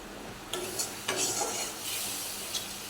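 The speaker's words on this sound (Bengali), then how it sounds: "দিয়ে মশলাটা ভালো করে কষে নিতে হবে।" A paste of poppy seed, tomato and green chilli frying in a pan, a soft hiss of oil broken by a few scraping stirs of a utensil, quiet and close with no talking.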